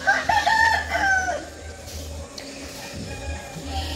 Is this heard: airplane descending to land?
no